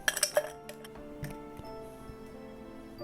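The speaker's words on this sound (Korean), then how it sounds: "먼저 잔에 얼음을 채워 주시고요." Ice cubes clink into a cocktail glass while a peach tree tonic is being made, a quick cluster of bright glassy taps at the start followed by a few scattered lighter clinks and a faint lingering ring.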